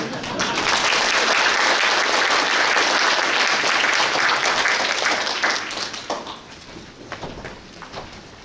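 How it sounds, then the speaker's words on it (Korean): An audience at a policy talk-show event in Suncheon applauds after a presentation, a loud sustained ovation that gradually thins into scattered claps near the end. "다시 한번 박수 부탁드리겠습니다"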